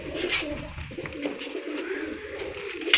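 A red-marked pigeon coos softly among other birds in a loft, low throaty calls running under a constant mix of faint chirps and background noise.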